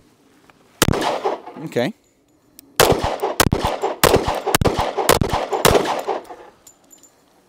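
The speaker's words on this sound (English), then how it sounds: "this is the first time I've shot this gun" Several close, loud gunshots from a Quantico carry 1911 pistol ring out at a shooting range, one shot followed by a rapid string of sharp, evenly paced cracks, with a brief spoken word between them.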